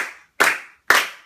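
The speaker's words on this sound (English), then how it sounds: "Now we'll clap these ones" Two crisp hand claps, close and dry, about half a second apart, with no talk, beating out a rhythm during a music lesson.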